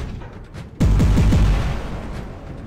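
A sudden burst of heavy robot gunfire in the video game War Robots, several rapid booming shots in quick succession, followed by a rumbling, fading tail.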